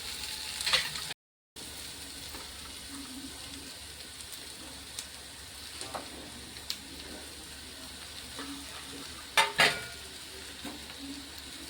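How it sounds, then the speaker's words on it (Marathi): Mashed potatoes stirred into sizzling masala in a pan, a low continuous frying hiss with occasional scraping stirs and a couple of sharp utensil clinks, with a brief gap near the start. "हे सर्व बटाटे आपण त्यात घालून घेऊया आणि मिक्स करून घेऊया व्यवस्थित."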